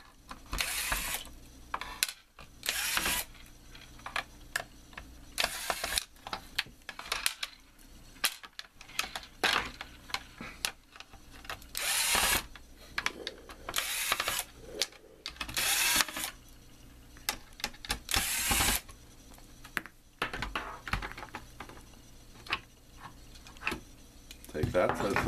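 Screws being removed from an ozone cell and ozone board with a ratcheting driver, bursts of close rapid clicking and mechanical ratchet noise repeating in short spells, with speech between them.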